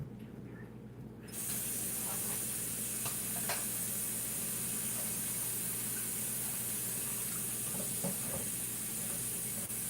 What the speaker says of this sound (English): We run some cold water.